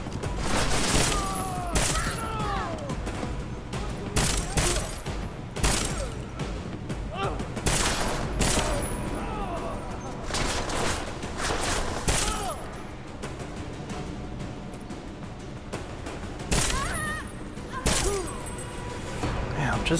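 Repeated bursts of gunfire fill the Deus Ex: Mankind Divided (2016) game, with loud shots spaced irregularly over twenty seconds against mechanical clatter, impacts and ongoing combat noise.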